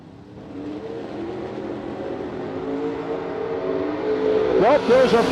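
Drag racing launch at a nitrous no-delay nationals event, a Nova lined up against a Camaro Roadster: loud, steady engine roar that builds over several seconds, with a sharp rising rev sweep near the end.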